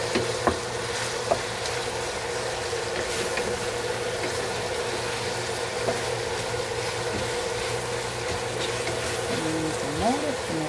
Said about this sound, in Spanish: Dejémoslo sofreír otro poco, que se le cosa la cebolla, el ají.